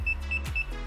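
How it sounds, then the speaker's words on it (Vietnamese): Repeated electronic beeps from a DJI FPV Motion Controller pairing, steady tonal pitch, several short pulses spaced evenly, fairly close, over a low background hum. "Mình thấy nó đang tít tít tít rồi."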